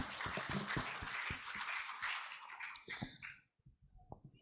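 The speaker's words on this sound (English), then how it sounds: "Give a big applause to Mr. Tajul" A keynote audience at a conference claps in a dense, moderately quiet burst for about three seconds, then the applause thins to a few scattered claps and fades out.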